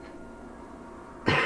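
After a stretch of quiet room tone, a single sharp cough from a person playing Kingdom Hearts Final Mix while ill breaks in close to the microphone.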